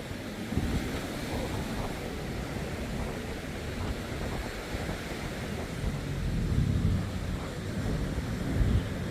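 Surf breaking at a harbour entrance as a boat passes through, a steady broadband wash of waves with wind buffeting the microphone, rising slightly toward the end, no voices.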